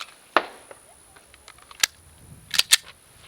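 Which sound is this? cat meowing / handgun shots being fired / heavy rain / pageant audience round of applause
handgun shots being fired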